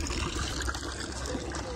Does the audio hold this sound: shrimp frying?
no